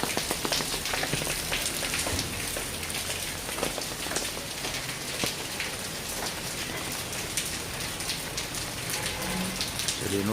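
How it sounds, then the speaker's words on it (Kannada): Raindrops fall steadily during cyclone-driven showers, a dense, even patter and hiss of rain on surfaces with scattered sharper drips, continuous and moderately loud. "ಮಳೆ ಹನಿಯ ಶಬ್ದ."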